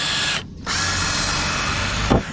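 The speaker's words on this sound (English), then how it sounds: "we're going to drill a hole through each end" A power drill whirs close by as it drills drainage holes through each end of salt tubes for goats, with a loud steady run, a short stop, then another burst ending in a sharp spike.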